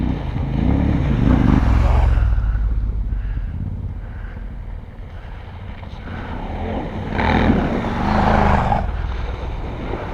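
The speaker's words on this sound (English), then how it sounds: "these big bikes, they do sound fantastic" Big motorbikes roaring along on a group trail ride: a steady, loud engine drone with heavy wind buffeting that swells near the start and again toward the end, continuous throughout with no clear talk.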